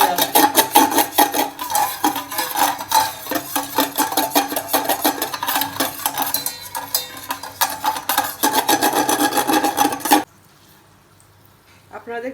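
A spoon stirs caramel made from sugar and a little water in a pan for egg pudding, scraping in a fast, steady rhythm of close strokes that stop abruptly near the end, leaving faint background noise.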